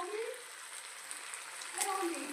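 Water poured into a pan of aloo gobi, a cauliflower and potato curry, sets off a steady soft hiss of sizzling that runs on at moderate volume with no voices.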